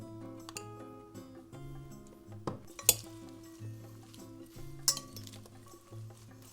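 Winter salad with shiitake mushrooms and tangerines being tossed with sauce in a bowl, giving repeated soft clinks and scrapes of utensils against the dish, with two sharper clinks standing out over a steady musical background.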